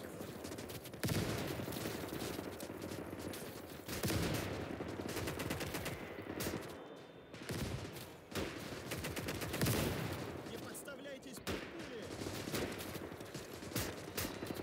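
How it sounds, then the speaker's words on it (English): Battlefield fire in Call to Arms: Gates of Hell with mortars landing, heard as continuous rattling gunfire and repeated sharp impacts. The dense din keeps up throughout with several louder blasts and no talking. "You can see how much damage those mortars do."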